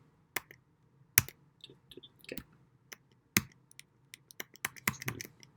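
Sparse computer keyboard key presses come as irregular, close clicks with gaps between them, quiet in a calm room, and a short spoken word breaks in near the start.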